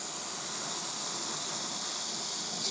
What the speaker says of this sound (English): spray this base. The compressor is kicking in.